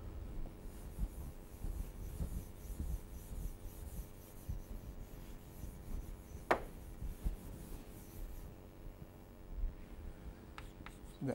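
Writing is rubbed off a board with a steady, soft scraping and brushing that continues for several seconds, faint and fairly close, with one sharper knock partway through.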